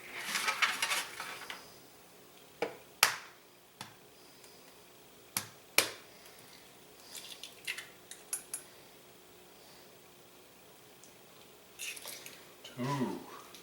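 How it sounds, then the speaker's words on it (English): Three eggs cracked into a kitchen sink, sharp separate taps and cracks spaced a few seconds apart, with faint clatter and light handling noise between them. "I just want to crack 3 eggs."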